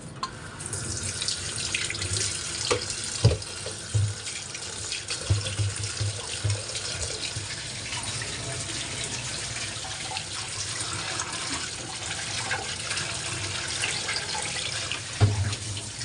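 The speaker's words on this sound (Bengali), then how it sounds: "তো মাছগুলোকে আমি এখন খুব ভালো করে ধুয়ে নেব" Small fish being washed under a running tap into a sink, a steady splashing stream of water with occasional louder splashes and handling knocks, continuous and close with no talking.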